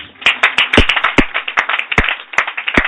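A church congregation applauding, many hands clapping close by in a brisk, roughly rhythmic patter with a few sharper, louder claps standing out.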